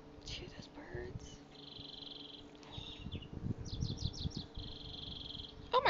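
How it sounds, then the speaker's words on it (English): Small birds chirp and trill in quick high bursts, canary-like, under a soft murmuring voice and some faint handling noise. "Oh my god, it sounds like a canary."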